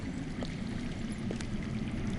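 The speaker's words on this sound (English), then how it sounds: "I hear water. From underground." Steady underground water flowing in a Game of Thrones video game, a continuous low rushing, pouring wash with no voices over it.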